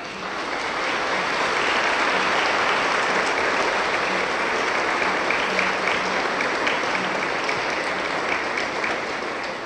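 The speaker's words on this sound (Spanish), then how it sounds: "Nosotros démosles un fuerte aplauso" Loud applause from a church congregation during a Mass after couples renew their wedding vows, a full and sustained wash of clapping lasting nearly ten seconds with no speech.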